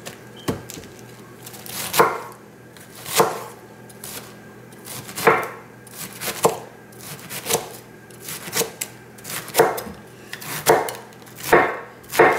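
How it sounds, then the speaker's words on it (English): A knife chops eel on a cutting board, preparing it for a stir fry. The close, crisp cuts land in steady bursts about once a second, with no talking. "I'm just going to chop them up."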